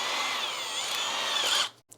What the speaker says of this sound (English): So I'm going to countersink them with